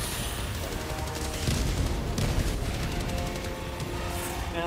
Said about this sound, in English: Here, eat some grenade.